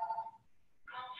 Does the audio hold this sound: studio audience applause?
no